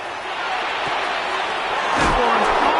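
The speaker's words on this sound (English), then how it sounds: "This crowd trying to be a factor, getting very loud now." A loud NFL stadium crowd at a Giants versus Dolphins game roars in a steady, dense wash that swells louder toward the end, with a few thumps and a voice talking over the noise.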